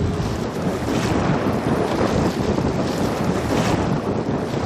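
Strong waves churn on Lake Malawi, a dense continuous roar of water with heavy wind buffeting the microphone, no speech.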